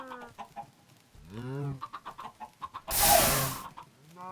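Chickens cluck in a video game, a run of short rhythmic clucks and a drawn-out squawk, close and clear, with a burst of broadband noise partway through.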